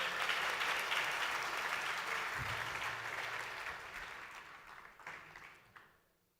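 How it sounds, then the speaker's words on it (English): Audience applause after a conference panel discussion, a steady dense clatter of many hands that slowly thins and fades out over several seconds, with no talking over it. "So give them once again a round of applause"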